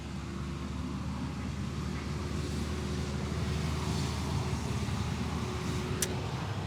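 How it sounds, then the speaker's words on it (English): A truck passes by outdoors in steady rain, a broad low rumble and hiss that holds level throughout, with a faint swell near the middle and a short sharp tick close to the end. "That's a truck."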